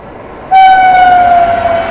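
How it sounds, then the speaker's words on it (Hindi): Awadh Assam Express passing at a railway crossing sounds a loud, sustained train horn that cuts in abruptly over low rumbling rail noise, close and dominant, with no talking. "राजस्थान के लालगढ़ से चलकर नॉर्थ ईस्ट के डिब्रूगढ़ तक जाने वाली अवध असम एक्सप्रेस"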